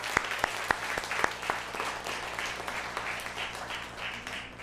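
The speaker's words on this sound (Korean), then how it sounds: "우리 큰 박수로 하나님 앞에 감사와 영광을 드립니다." Applause from a church congregation at a Sunday worship service. A few distinct, sharp claps come first, then the sound fills out into steady, sustained clapping from the room at moderate loudness.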